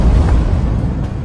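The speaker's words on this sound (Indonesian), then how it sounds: "kini Dede hancur meledak di langit" A character blows up in the sky in an anime: a dense, loud, continuous roaring blast with low rumble throughout, no voices.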